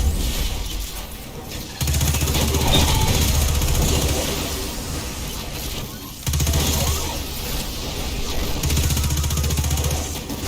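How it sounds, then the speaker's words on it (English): A large industrial drill runs inside a mine vault in the Destiny 2 video game, a heavy, continuous mechanical roar with a pulsing low rumble that surges and dips in loudness. "That drill pierced an entrance to the War Mine Vault."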